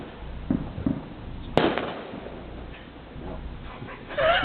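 Fireworks on Bonfire Night over Coventry, a few distant pops and one sharp bang midway, with quiet outdoor background and faint voices between.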